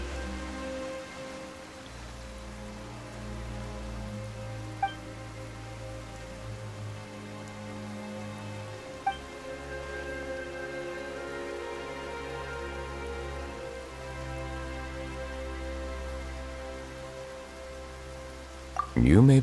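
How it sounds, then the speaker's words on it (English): Rain falls steadily in the video game Genshin Impact, a soft continuous patter under a sustained music bed, with a couple of brief chime-like accents and a louder effect at the very end. "Why is it raining all of a sudden?"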